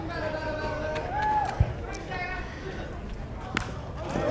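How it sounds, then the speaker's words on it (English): A big baseball stadium crowd falls into a tense near-hush, a low murmuring babble with scattered chatter and isolated claps or thumps, while people's voices drift faintly through the quiet. "You hear the hush."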